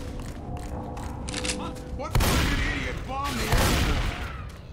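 Gunfire in the zombie shooter Left 4 Dead 2, loud booming shots and bursts cutting through game ambience, with a character's voice heard between blasts.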